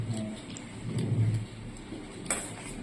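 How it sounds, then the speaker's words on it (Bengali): Low thunder rumbles briefly during rain near a window, a soft swelling roll heard against steady rain hiss and faint ambient noise. "মেঘ ডাকছে বৃষ্টি কি সুন্দর ঠান্ডা হাওয়া দিচ্ছে"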